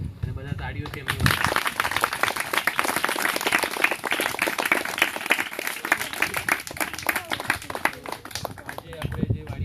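A group of schoolchildren visiting an organic dragon fruit farm claps loudly in a sustained burst of applause outdoors, many hands rattling together for several seconds after a brief opening of talk.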